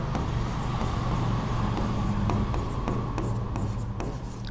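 Writing out a physics calculation on Coulomb's law, quick scratchy strokes ticking irregularly over a loud steady low hum of background noise, no voice heard.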